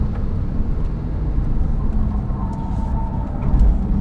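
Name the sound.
Porsche flat-six turbo engine and exhaust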